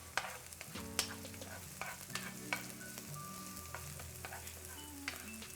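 A small pinch of onions frying in a pan on high heat for quick fried rice, giving a steady close sizzle with scattered scrapes and taps of a utensil stirring throughout.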